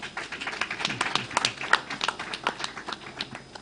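Scattered audience clapping at a live-streamed office dialogue event, a loose handful of hands tapping irregularly at moderate distance, thin rather than full applause.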